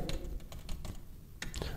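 Quick clicking keystrokes on a computer keyboard while entering a mobile number into an online order form for a PVC card, a rapid uneven run of taps close by, with faint talk underneath.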